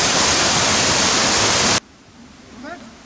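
A small waterfall at Malachite Bath lake in the Ergaki mountains makes a loud, steady broadband rush up close. It then cuts off abruptly to a quieter outdoor background with a faint bird-like call near the end.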